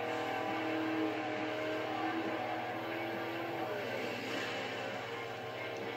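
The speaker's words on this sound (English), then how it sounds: "Jeez, this plane's gonna beat me everywhere." A propeller plane racing in the Forza Horizon video game drones steadily with a continuous buzzing engine tone, loud and unbroken, mixed with engine noise from the race.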